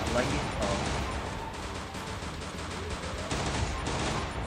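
Gunfire from the battle-royale game Free Fire, a dense run of rapid shots with bursts at the start and near the end, loud and continuous over game noise, with a voice talking faintly beneath.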